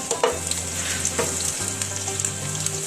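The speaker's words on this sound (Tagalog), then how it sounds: "piprituhin na natin siya" Mussel and vegetable omelette sizzling steadily in a frying pan, a continuous close frying hiss with a low hum underneath and occasional soft scrapes, no talking.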